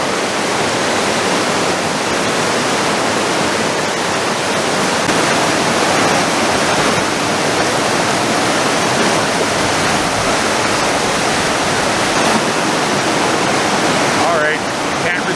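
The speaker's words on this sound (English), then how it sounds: "Nice water flow." Loud, continuous rush of the Vedder River flowing, a dense steady roar that stays constant from start to finish.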